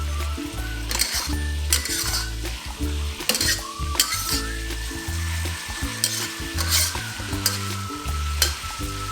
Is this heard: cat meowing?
no